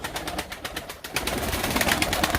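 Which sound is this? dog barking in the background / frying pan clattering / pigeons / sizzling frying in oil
pigeons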